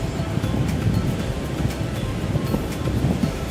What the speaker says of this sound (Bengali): এই সাইডে খুবই ভয়ানকভাবে ধাক্কাইতেছে পানি